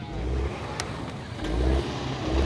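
A truck engine roars and revs in surges, loud and close, with a brief sharp click partway through, at a truck show.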